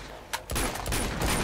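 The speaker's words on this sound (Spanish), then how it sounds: "tiros, nunca es buena señal, sacar las armas" Video game gunfire in Uncharted 2: a sharp early shot, then a loud, dense barrage of rapid shots that fills the rest of the moment with little pause.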